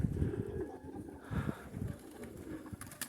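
Pigeons coo in a loft, soft low rounded calls repeated close by in irregular bursts, with light rustling and a faint high chirp near the end.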